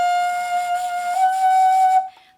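A single sustained high bass flute note, thin and slightly squeaky from pinched playing, held steady for about two seconds before stopping abruptly.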